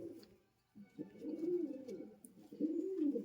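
Giribaj pigeons coo softly and close by, with a few low throaty rolling calls coming one after another after a short pause.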